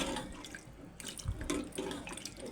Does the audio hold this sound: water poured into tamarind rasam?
yes